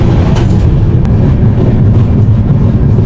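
A moving passenger train heard from inside a carriage, with a loud, constant low rumble of wheels on track and faint rattling clicks throughout.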